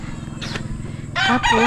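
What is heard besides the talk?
fighting rooster crowing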